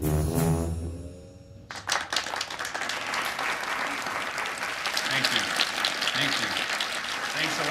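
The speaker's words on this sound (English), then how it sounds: "Polite applause is one thing" A tonal voice or sound gives way abruptly to full audience applause, many hands clapping densely and evenly, carrying on steadily to the end.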